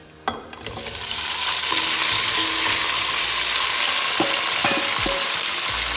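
Chicken pieces drop into a pan with browned onion for yakhni pulao, a couple of sharp clatters followed by a loud, steady hiss of frying that holds close and continuous.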